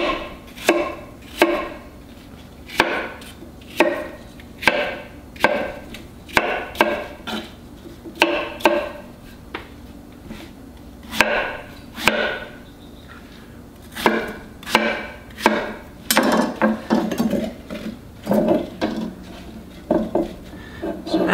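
A knife chops an apple into small cubes on a cutting board, with a series of crisp, close knocks in an uneven rhythm that grows quicker and denser toward the end, alone without speech.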